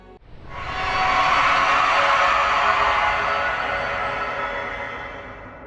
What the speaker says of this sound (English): when you unseal the Temple of the Black Egg, where Radiance is imprisoned, it cries out